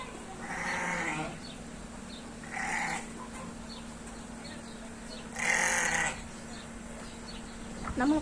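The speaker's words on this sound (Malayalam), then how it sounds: "ആട്" Goats bleating at a farm that also keeps peacocks, chickens and pigeons, with three or four loud bleats in bursts over steady background hum and insect buzz.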